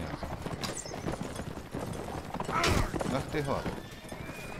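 Galloping horse hooves in Mount & Blade Warband, a quick rhythmic clatter with a whinny partway through, heard under a man's speech and battle noise.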